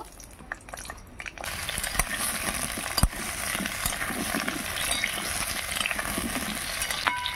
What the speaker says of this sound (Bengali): আলুগুলো একদম লাল লাল করে ভেজে নেব